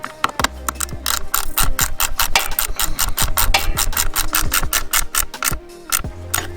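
Ratchet tightening 8mm screws into a plastic Can-Am Ryker skid plate, rapid repeated clicking pawl strokes in steady bursts, close and loud, with no talking.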